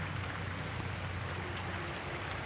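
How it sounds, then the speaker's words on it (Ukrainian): Steady, dense hiss of rain falling, constant and even throughout with no voices. "дощ у нас іде. Дощ іде."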